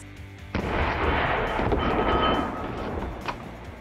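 A rifle shot into a ballistic gel block, comparing 7.62 and 5.45 rounds, gives one sharp loud report followed by a long rolling, echoing boom that slowly fades, then a faint later crack.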